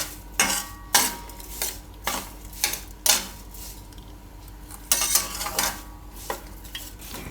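A pan of strawberries and sugar is set down on a gas stove, giving a run of sharp metallic clanks and scrapes in an irregular rhythm, close and fairly loud, with no talking.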